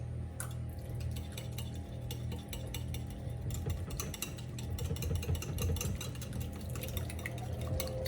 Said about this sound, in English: So we're gonna whisk this.